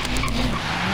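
A 1992 Nissan Silvia Club drifting in Forza Horizon 3 gives a loud, close, continuous tire squeal over a rough engine drone, lasting about a second.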